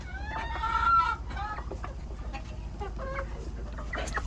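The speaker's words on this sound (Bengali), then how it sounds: "এবার এই খাঁচায় দেখেন একটা কুচে কয়টা মুরগি বসেছে" Hens crowded inside a coop cluck and squawk close by in short overlapping bursts, with a louder call near the start, over a low steady hum.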